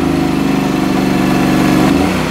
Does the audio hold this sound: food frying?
no